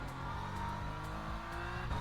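A race car engine in the Le Mans Ultimate racing game at Fuji holds a steady, continuous drone, with low harmonics shifting slightly as the revs rise and fall through a short stretch.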